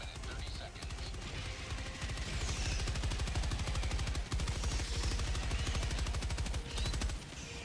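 A machine gun firing nonstop at swarming enemies in Helldivers 2: a dense, rapid, unbroken stream of shots held for several seconds, with brief gaps and faint battle noise underneath.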